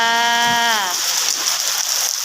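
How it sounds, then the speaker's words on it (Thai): Steady rain hiss fills the clip, with a brief voiced sound over it near the start before the rain carries on alone. "มามื้อนี้ฝนตกอย่างแรง"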